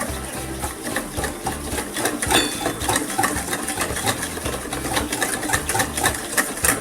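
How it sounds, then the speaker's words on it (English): Sugar is whisked into cupcake batter with a steady, fast, rhythmic whirring that runs continuously at an even, fairly loud level, with faint metallic ticks over the top. "See how I'm whisking."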